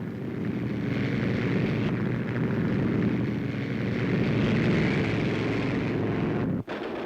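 Army tanks under test at a proving ground, run by an all-woman crew, give a loud, continuous heavy rumble that holds steady for several seconds before a sudden brief dropout near the end.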